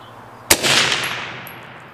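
A single loud, sharp rifle shot from a 12.5-inch 6.5 Grendel deer rifle, close by, with a bright crack followed by a long echoing tail fading over more than a second.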